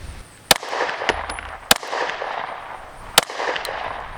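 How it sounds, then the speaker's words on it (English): Three sharp, loud shots from a PSA Dagger pistol firing 124 grain ammunition, spaced a little over a second apart, with a couple of fainter pops between them. "that's going to be 3 shots, and then 3 shots of 115, so we can see a difference"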